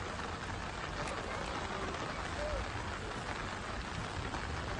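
Heavy rain in Ahmedabad heard as a steady, dense, even hiss of falling water that continues without a break throughout, fairly faint and distant.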